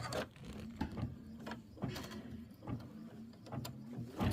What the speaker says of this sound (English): while it's stitching this out